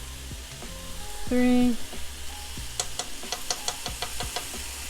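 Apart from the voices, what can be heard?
ginger and garlic sizzling as added to stir fry pan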